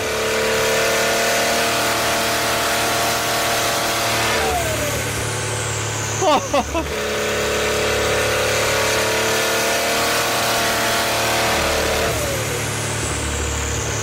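A Porsche 935K race car engine, heard close and loud, holds a steady high-revving drone, drops with sharp gear-change pops and crackles midway, then climbs again through repeated rev sweeps with no talk over it.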